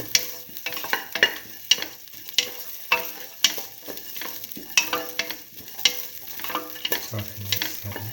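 A spoon scrapes repeatedly through a frying mung bean and rice mixture with ginger, green chili and salt, producing close, rhythmic stirring strokes over a soft, steady sizzle.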